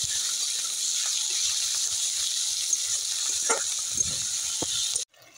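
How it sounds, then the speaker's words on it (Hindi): Ghungi snails roasting in a pan, a steady close hiss of frying with occasional soft stirring scrapes, continuing evenly until it cuts off near the end. "इसको मैं थोड़ा सा भून लूँगी अब इसको आपको अच्छे तरीके से भून लेना है"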